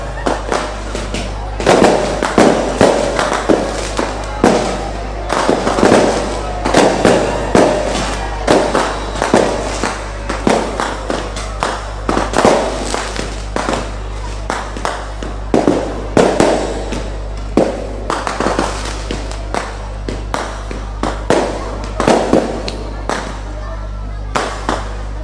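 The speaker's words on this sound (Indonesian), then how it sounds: "Baru ngenteni mercon." Fireworks and firecrackers go off at a year-end religious gathering, a long irregular run of sharp pops and bangs, some in quick clusters. A low steady hum and faint crowd murmur run underneath.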